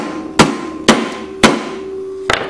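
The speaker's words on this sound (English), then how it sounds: "Now I hit it here and the flywheel should jump off." Four sharp metallic hammer blows strike the flywheel of a Kawasaki commercial mower engine to knock it loose, three evenly spaced and loud, then a final quicker double hit, close and without talk.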